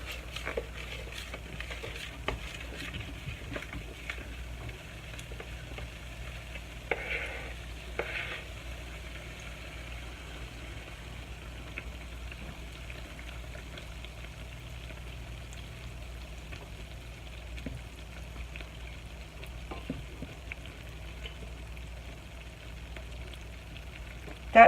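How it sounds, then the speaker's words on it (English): Cornbread batter sizzles softly in hot oil in a cast iron pan, a faint continuous frying crackle with a couple of brief louder bursts and small clinks. "You hear that sizzle?"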